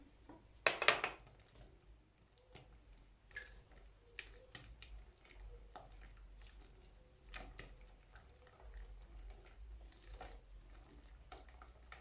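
Metal spoon clinks and scrapes against a pot while butter is stirred into hot milk pudding, with sparse irregular taps over a low steady hum, fairly quiet and close, no talking.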